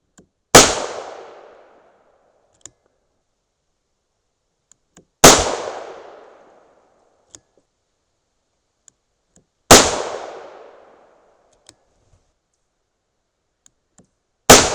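A .38 Special +P revolver fired double action with 125gr Hornady XTP handloads over Longshot powder: loud, sharp single shots about four and a half seconds apart, each ringing out briefly, with faint clicks between.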